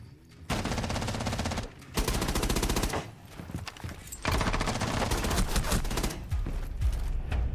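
Bursts of FMG9 fire in Rainbow Six Siege: rapid machine-pistol volleys in several long strings separated by short gaps, loud and close, with no talk over them.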